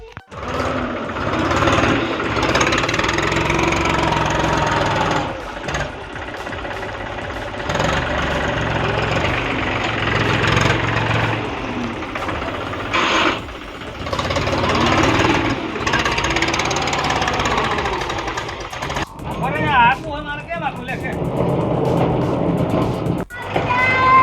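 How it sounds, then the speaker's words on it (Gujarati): A tractor engine on a farm while manure is being loaded, a loud continuous rough chugging drone close by that holds steady throughout with slight surges and dips. "પેલું ટ્રેક્ટર ફરીને જઈ ગયા"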